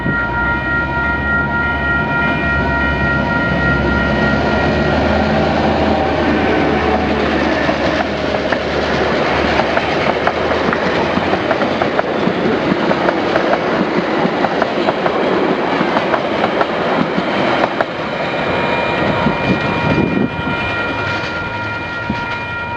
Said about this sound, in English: This scene shows DBR 1254 passing through the only level crossing in Putaruru.